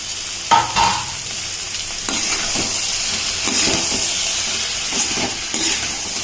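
Okra and onions sauté in a pan with turmeric, a steady sizzle and hiss broken by a few scraping stirs near the start and again later, close and fairly loud throughout.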